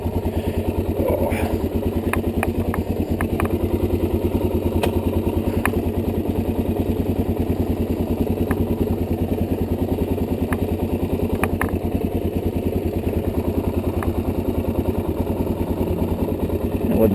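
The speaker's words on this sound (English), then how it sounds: "The funny part may be me backing this bike up." A stock dirt bike idles with a steady low throb in an open dirt field, shortly after a cold start, while it is backed up by hand, with a few faint clicks.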